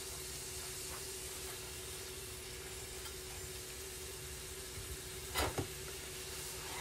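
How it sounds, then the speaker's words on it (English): Steak searing in a pan, a steady close sizzle and hiss that holds evenly, broken near the end by a couple of brief sharper bursts as the meat spits, with no talking. "we're going to let the steak just do its thing for a minute so we can get it seared on that one side"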